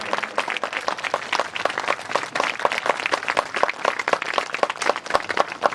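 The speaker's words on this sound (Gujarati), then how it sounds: "આપણે પણ તાળીઓથી વધાવીશું અમૂલ્ય અવસરને." A crowd of villagers and students applauds at a welcome ceremony for a guru, dense sustained clapping with sharp individual claps standing out, loud and close throughout.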